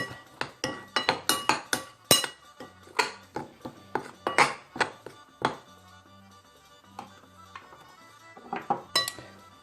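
Gnocchi ingredients seasoned with cayenne pepper and paprika being stirred in a bowl, giving a run of sharp clinks and scrapes of a utensil against the dish, dense and rhythmic at first, then sparser, close up with no talk.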